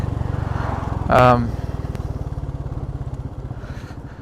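A Royal Enfield Meteor 350cc motorcycle thumps along a road on a mild, overcast day, its steady single-cylinder pulse running beneath a rider's talk, with a brief louder burst of wind or mechanical noise partway through.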